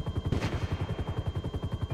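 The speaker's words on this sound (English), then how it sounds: "Did I just hear a gunshot?" Gunfire in Grand Theft Auto V, a rapid train of sharp repeated shots at a steady rhythm, fairly loud against the game's background sound, with no talking.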